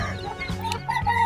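Short, close clucking from a broody mother hen, a few soft throaty notes against faint background noise.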